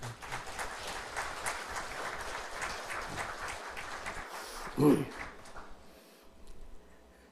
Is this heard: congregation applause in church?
yes